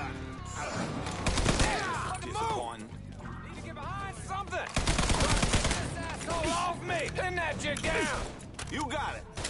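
Heavy gunfire in the video game Mafia 3 rattles in dense bursts beneath constant shouting and speech, with loud clustered volleys recurring throughout.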